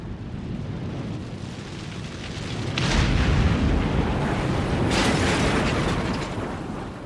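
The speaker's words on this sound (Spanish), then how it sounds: "Y a continuación le sigue un estruendo que se aproxima." After a meteorite impact explosion, a deep, approaching rumble swells from a steady low roar into a louder, crackling thunderous wave that holds, then begins to ebb.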